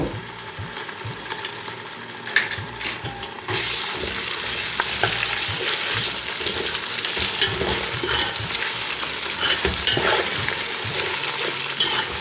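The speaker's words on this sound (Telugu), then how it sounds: "ఇక్కడ నేను అల్లం వెల్లుల్లి పేస్ట్ వేస్తున్నాను" Ginger garlic paste frying with onions for a country chicken curry, loud continuous sizzling close by with repeated scraping and clinking of a spoon stirring the pan.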